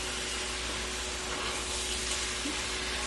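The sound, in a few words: stirring meat with sauce in a pan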